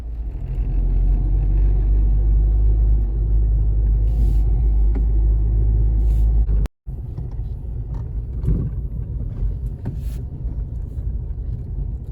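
A car drives along a road from inside the cabin, a steady low rumble of engine and road noise running throughout, with a brief cut midway and a few faint knocks.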